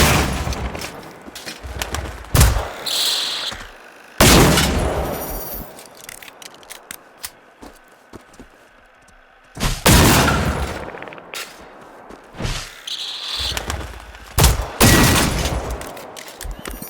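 Pistol shots in the video game Generation Zero fire in scattered single cracks and short bursts, loud and close, separated by quieter stretches of ambient game noise.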